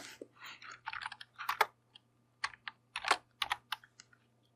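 A formula is typed on a computer keyboard, with close, quiet clusters of quick key clicks, short pauses between bursts and a final few taps, against a faint steady hum.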